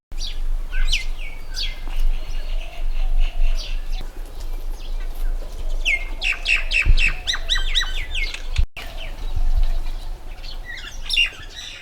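A mix of birds kept in a large netted enclosure beside a fountain on a Padma river island, peacocks among them, giving bursts of chirps, squawks and sharp calls at moderate distance over a low outdoor hum, with no talking.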